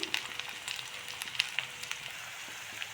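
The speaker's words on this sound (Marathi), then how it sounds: "आता टाकूयात हिरवी मिरची हिरवी मिरची घेऊयात टाकून तेलामध्ये छान घेऊयात हिरवी मिरचीला परतून" Green chillies sizzle steadily in hot oil with already-browned onion while upma is cooked, a continuous close frying hiss dotted with small crackling pops and no voices.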